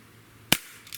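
A Sig Sauer X-Five ASP air pistol fires a lead pellet, a single sharp, close crack followed by a short faint tail.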